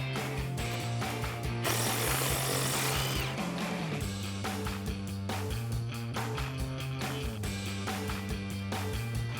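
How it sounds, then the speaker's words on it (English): A tool spins out a bolt with a 10mm socket on a Toyota Tacoma's front suspension during a lift kit install, giving rapid rattling mechanical bursts with a brief louder whir partway through, close and alone. "I'm just going to take out that bolt."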